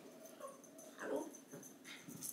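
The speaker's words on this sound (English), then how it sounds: "She's a big guard dog." A big guard dog whimpers indoors in a few faint, high, wavering whines, brief and a little distant over a quiet room.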